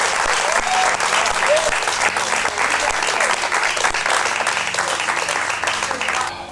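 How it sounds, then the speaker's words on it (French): A group of competitors at the finale of a Mauritian team competition show applauds together: loud, dense, sustained clapping that fades slightly at the end. "j'aimerais que chacun on s'applaudisse"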